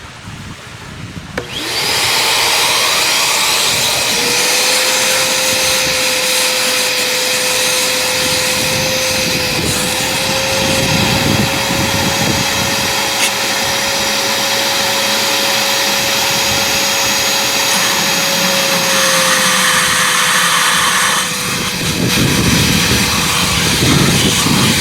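A wet vacuum sucks water out of a pool skimmer with a loud, close, continuous roaring whine holding a steady pitch, starting abruptly and running for about twenty seconds with no talk.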